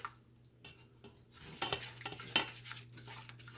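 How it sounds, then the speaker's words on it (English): Spoon stirring shrimp macaroni and cheese in a pot on the stove, soft scraping and clinking against the pan with a faint sizzle, quiet and close with a few sharper knocks. "See, you have to keep it stirred."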